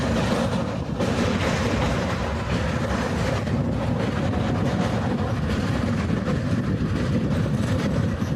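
Heard from inside a nearly empty railway coach on the Pandharpur to Latur line, a train rolls along the rails with a constant heavy rumble and rattling wheel clatter, steady and loud throughout with no voices.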